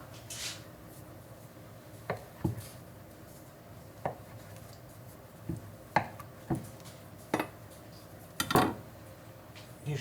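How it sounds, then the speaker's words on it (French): A knife cuts through rolled blueberry brioche dough into four pieces, giving a handful of sharp, separate chops and taps on a board, spaced irregularly over a quiet kitchen background. "une fois que c'est roulé, je viens couper en 4"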